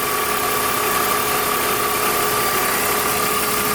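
An idling BMW E46 M with a faulty alternator gives off a constant high-pitched whine over the steady engine drone, recorded up close without any voices.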